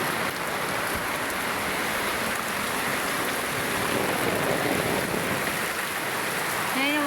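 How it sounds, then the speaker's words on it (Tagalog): Floodwater rushes past in a steady, loud, continuous wash of flowing water, with a voice briefly heard near the end. "Baha, baha. Malaki na naman ang baha."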